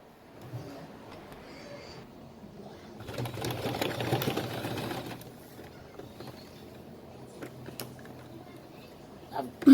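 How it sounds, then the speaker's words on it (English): A sewing machine stitches through pinned fabric layers of a ball gown, running in a steady mechanical whir that swells louder for a couple of seconds midway, then settles back to a quieter hum with faint clicks. "So I'm going to go right ahead and sew all of these parts where I've pinned"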